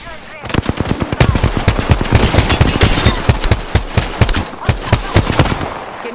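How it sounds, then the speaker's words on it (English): Gunfire in the video game Apex Legends: dense, rapid automatic bursts with sharp repeated cracks, loud and close, rattling almost continuously. "The enemies are shooting at me"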